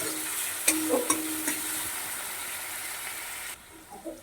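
Steady sizzling of grated onion frying in a pan over low-medium heat, with a few scraping stirs and clinks near the start before the hiss drops lower.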